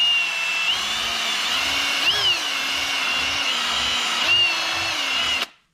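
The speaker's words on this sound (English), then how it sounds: "and run the drill" A power drill whirs steadily for several seconds while decapping LS fuel injectors, its pitch rising and dipping slightly as the load changes, then cuts off abruptly.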